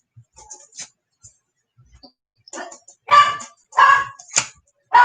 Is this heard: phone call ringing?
no